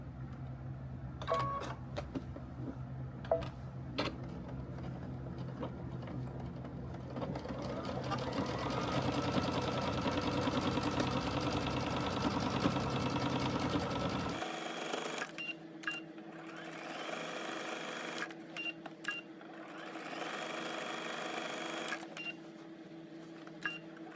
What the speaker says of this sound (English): you're going to stitch about 1/8 of an inch from that seam line